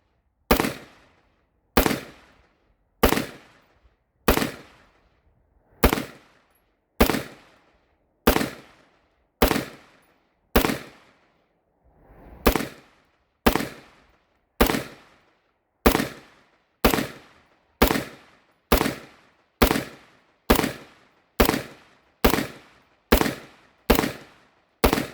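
Wolf T91 rifle firing cheap ammunition at a range, about twenty loud, sharp semi-automatic shots at a steady pace of roughly one per second, close to the microphone.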